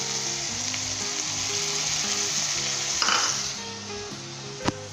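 Carrot and chicken sizzle loudly as they are stir-fried with soy sauce, chili sauce and lemon juice. The frying keeps up a steady hiss, broken by a clink of utensil on pan near the end, with no voices.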